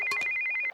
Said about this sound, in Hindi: ये फोन तेरी निशा का ही होगा